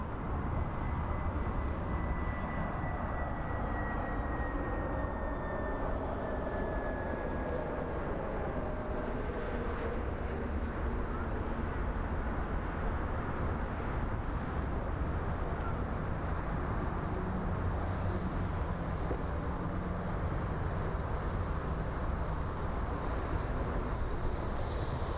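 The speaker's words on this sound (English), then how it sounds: "So here we have a Boeing 777F arriving into Frankfurt, possibly from Atlanta." A Boeing 777F cargo jet lands at Frankfurt Main airport, heard as a steady distant roar with a faint whine that fades over about twenty-five seconds, with ambient airport noise and no talk.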